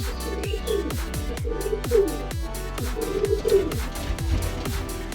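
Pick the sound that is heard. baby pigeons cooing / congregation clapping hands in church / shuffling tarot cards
baby pigeons cooing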